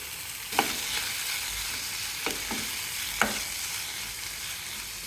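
Soaked lentils with turmeric frying in a pan, a continuous loud sizzle with a few distinct scrapes and taps of a stirring spoon.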